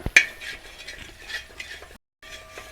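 A spatula scraping and swishing across an uruli greased with groundnut oil, a few quiet metallic strokes and clinks, alone and close.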